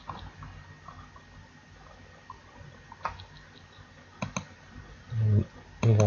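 A computer mouse clicking around a website, a few sharp isolated clicks spread over several seconds against a low background hum, with some louder dull thumps near the end.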